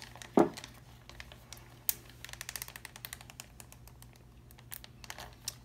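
A thin plastic bag crinkles and rustles in scattered small bursts while being wrapped over freshly mixed henna, with one sharper crackle near the start and lighter rustles after it.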